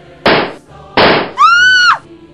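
Two loud sharp gunshot bangs about a second apart in a radio drama, followed by a rising and falling electronic whine, with no voices.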